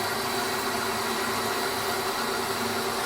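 A 1994 Doall C-305NC automatic horizontal bandsaw runs with its head rapidly traversing, a dense steady mechanical hum and whine with no pauses, close and even in level throughout.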